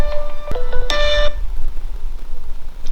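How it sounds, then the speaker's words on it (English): A mobile phone ringtone from an incoming call sounds in a garage during work on a WJ Grand Cherokee, with short melodic tonal bursts near the start that fade into quiet background noise. "And someone's calling me."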